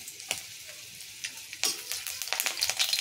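Bay leaf sizzles in hot oil for Bengali kalmi greens, a steady crackling fry with a few sharper pops and stirring scrapes, growing busier toward the end.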